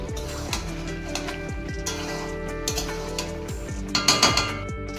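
Spicy chicken being stirred and slowly browned in a pan over a gas flame at medium heat, with soft scraping and clinks of a utensil against the pan and a brief cluster of louder metallic knocks near the end.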